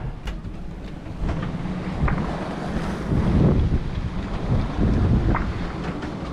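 Strong wind buffets a sailboat running on a broad reach at about 6 to 8 knots under trysail and staysail, a loud gusting rumble mixed with rushing water, swelling and easing with no voices.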